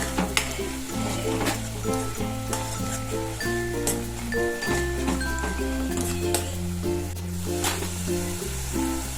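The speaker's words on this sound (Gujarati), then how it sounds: "હવે આપણે બધું એકદમ ચલાવી લેશું" A spiced soya chunk gravy sizzles while being stirred in a pan, with occasional utensil clinks, all under steady background music.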